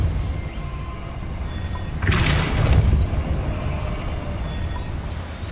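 Depulso force spell cast in Hogwarts Legacy, a single sudden whooshing burst midway that fades over about a second, set against a steady low ambient rumble, no talking.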